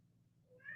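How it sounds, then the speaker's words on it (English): A pet cat meows once near the end, faint and brief over a quiet low hum in the background of an indoor room. "Sorry if you can hear my cat in the background."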